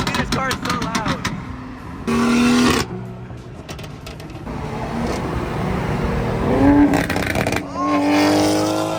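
A loud modified car at a car meet revs and roars in bursts between steadier engine drone, close and dominant, with people talking over the noise.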